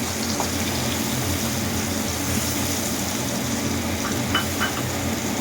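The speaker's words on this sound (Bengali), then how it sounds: "দিয়ে একটু সময় ধরে নাড়াচাড়া করে নেব ফ্রাই করে নেব" Mustard paste and onion paste stirred and frying in a pan with tomato for a rohu fish dish, giving a steady, close, dense sizzle and bubbling hiss throughout with occasional faint scrapes of a spoon.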